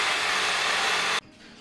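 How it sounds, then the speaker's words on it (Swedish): A reciprocating saw cuts through an old, rusty car exhaust system on a BMW, a loud, steady, harsh buzzing drone held close for over a second before stopping abruptly into quiet room noise. "Och ibland så är skruvarna lite rostiga, då är det bra med en tigersåg."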